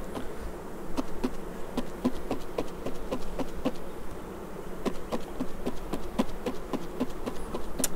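A steady buzzing drone of many honey bees inside a CO2 varroa mite checker, with light repeated tapping or rattling clicks throughout as the container is gently shaken.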